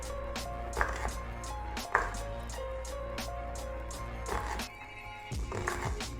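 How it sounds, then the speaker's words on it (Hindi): Onion sliced finely with a knife on a board for a bhindi chicken dish, giving a few sharp, close chopping taps spaced unevenly over a steady low hum. "अब यहाँ पे भिंडियों के लिए जो मैं प्याज यूज़ कर रही हूँ उसकी कटिंग भी मैं आपको दिखा दूँ"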